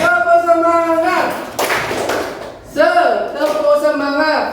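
A school class performs the 'tepuk semangat' clapping chant: voices chant together in unison, broken by a burst of quick, sharp hand claps, then the chanting returns.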